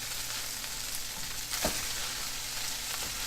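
Pineapple fried rice stirred in a sizzling pan gives a continuous close frying hiss, with one short scraping stroke in the middle.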